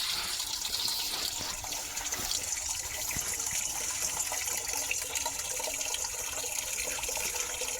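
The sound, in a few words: water poured while washing sesame seeds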